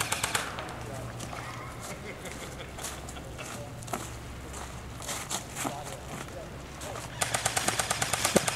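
Airsoft guns fire in scattered bursts and single pops across an outdoor field skirmish in New Jersey, some shots close and sharp and others distant, ending in a quick rapid string, with footsteps and people talking throughout.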